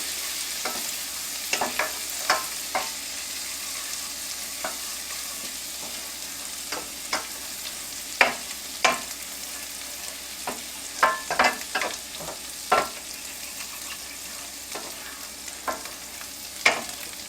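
Garlic sautéing in a pan makes a soft, steady sizzle with scattered sharp clicks of a utensil stirring against the pan, fairly faint and with no talking.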